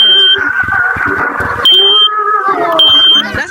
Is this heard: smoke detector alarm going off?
yes